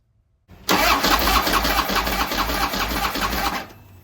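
Harley-Davidson 103 Twin Cam motorcycle engine cranking and struggling to catch, a loud, close, continuous rough churning for about three seconds before cutting out, with no voices over it.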